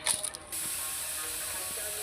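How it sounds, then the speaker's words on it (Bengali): Fish frying in oil on a gas stove: a brief clatter opens, then a steady, even hiss runs to the end. "মাছ ভাজার শব্দ হচ্ছে এখানে"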